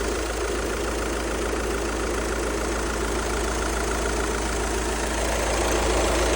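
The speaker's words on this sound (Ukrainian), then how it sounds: "Ось так по звуку працює мотор." A 2013 Volkswagen Touran 2.0 TDI diesel engine idles steadily and close by, a constant low rumble with a faint knocking texture and no voices.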